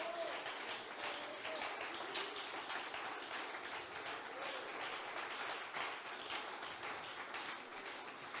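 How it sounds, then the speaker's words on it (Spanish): Congregation applause during a church sermon, a faint, steady wash of many hands clapping continuously, distant and even in level, with a hint of voices underneath. "Dele ese aplauso al Señor en el nombre de Jesús"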